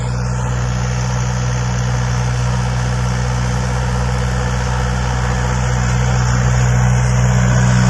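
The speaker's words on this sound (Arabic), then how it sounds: "ده جرار للإيجار، هو بيقلب في الأرض دلوقتي." A rented tractor turns over farmland on an orange farm in Nubariya, Egypt, its diesel engine holding a steady, loud low drone with a strong fixed hum for the full stretch and no voices.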